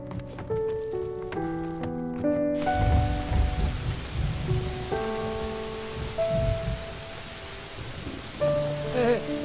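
Rain hisses steadily outdoors in a TV drama scene, with a low, rumbling roll of thunder near the start, all sitting beneath a melodic music score.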